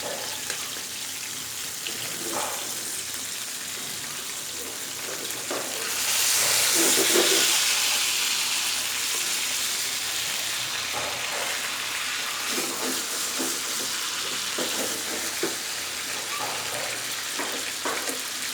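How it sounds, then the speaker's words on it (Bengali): Bengali-style tilapia frying in hot oil gives off a continuous close hiss and sizzle. A louder steamy burst rises briefly partway through, then settles back to a steady crackle. "হয়ে গেল আমার তেলাপিয়া মাছ ভাজা।"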